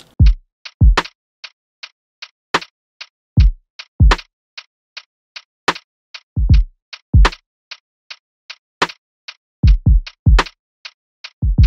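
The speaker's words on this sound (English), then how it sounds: "And then I added in like this hi-hat, just like this constant hi-hat." A steady, crisp hi-hat ticks in an even rhythm, punctuated by deep booming kick drums in a sparse electronic lofi beat made in FL Studio.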